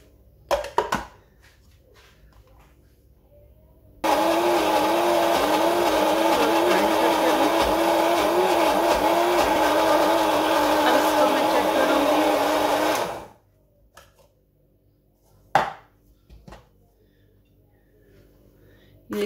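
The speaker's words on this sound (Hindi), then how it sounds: "अब इसमें मैं ग्राइंडर में डाल रही हूँ, थोड़ा थोड़ा करके मैं इसको पीसूँगी।" Electric grinder blending ginger and garlic with cooking oil into a paste, a loud steady motor whir running about nine seconds, then stopping abruptly, with brief knocks and handling sounds before and after.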